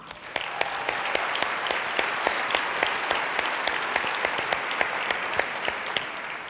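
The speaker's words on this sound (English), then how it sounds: "Please join me in a warm round of applause for our session sponsor, Apartments.com" Warm conference audience applause for a session sponsor, a steady, even roar of many hands clapping with a few sharp, distinct claps popping out close by at a regular pace.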